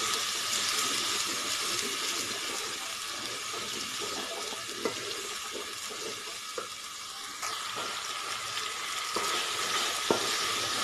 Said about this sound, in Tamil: நல்லா ஆயிலேயே பச்சை வாசம் போகிற அளவுக்கு வதக்கிக்கோங்க.